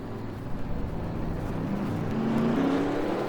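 Race cars rolling off at Martinsville in a racing video game: a dense field of engines drones steadily, with a whining tone that climbs in pitch as the pack picks up speed. The sound grows slightly louder toward the end.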